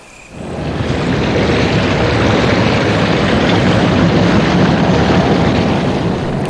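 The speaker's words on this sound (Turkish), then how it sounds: "Su geri doldu, değil mi?" Water refilling in the Resident Evil HD Remaster game, a loud rushing roar that swells in within the first second and then holds steady and dense.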